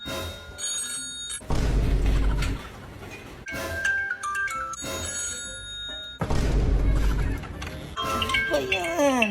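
An alarm rings to wake people for an early jog, sounding as repeated loud electronic ringing bursts separated by gaps, with voices speaking and moving about between the rings.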